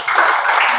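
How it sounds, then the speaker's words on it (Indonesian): Students in a mathematics classroom applaud a group that has just presented, a dense, steady wash of clapping from many hands sustained for under a second without pause. "Beri tepuk tangan."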